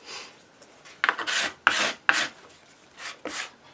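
Leftover paint is scraped across a canvas background in several short, rasping strokes, close and fairly loud, separated by brief pauses, with no voices.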